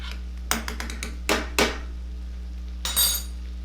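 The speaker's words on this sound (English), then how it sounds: "I know this is kind of sacrilege to use the metal tongs on a non-stick pan, but we're doing it anyway." Metal tongs clink and scrape against a non-stick pan of French onion soup broth, a few sharp irregular taps and rattles over a low steady kitchen hum.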